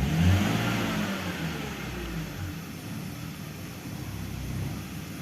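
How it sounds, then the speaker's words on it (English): A BMW E46 325i engine with a suspected cam sensor fault and dipping RPM just above idle is revved with the accelerator, a rising then sustained mid-pitched engine drone heard close and steady. "Now I really have to move the accelerator quite a bit to get some RPMs."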